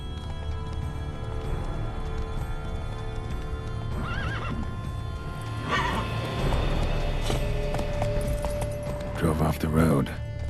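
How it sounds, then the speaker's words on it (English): Horses in The Witcher 3: Wild Hunt, Hearts of Stone expansion, whinny several times over a steady rumbling game soundscape with clip-clopping hooves and someone speaking. "Horses must have gotten spooked."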